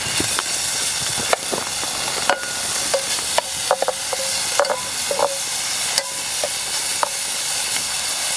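Lardons frying in a pan over an outdoor campfire, a steady hissing sizzle with scattered sharp pops and crackles of fat, close and continuous without speech.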